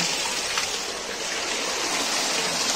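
Two mountain water streams in the Pithoragarh hills flow at dusk with a steady, close rushing and gushing sound, continuous and moderately loud throughout, with no clear talk.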